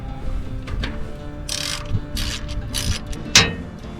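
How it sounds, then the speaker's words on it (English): Hand-pumping the fuel primer on an old Kobelco K907LC-II excavator gives a series of close mechanical clicks and rasping strokes, irregular in rhythm, with one sharper clack near the end. "We're gonna pump it and try to prime it."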